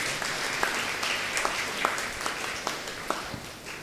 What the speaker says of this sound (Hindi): और एक बार आप लोग अपने खुद के लिए धन्यवाद के रूप में ताली बजाइएगा।